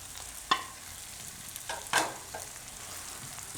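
Puffed rajgira (amaranth) being stirred into potatoes in a pan, a few short scraping clicks over a faint continuous sizzle, with no talking.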